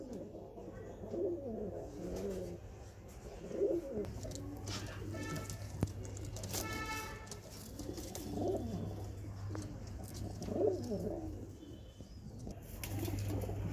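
Pigeons coo in low, soft, repeated phrases, close by, with occasional wing flaps and a faint steady hum underneath.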